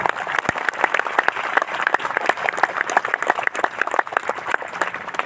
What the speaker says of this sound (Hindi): ताली मीठी मीठी भी क्या बजाते हो?